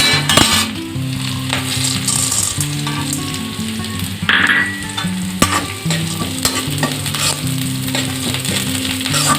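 Chana dal sizzles in hot oil with garlic, ginger and chili while preparing a banana flower dish. A continuous, loud crackling fry with intermittent stirring and a faint clink of utensils is heard up close, with no talk.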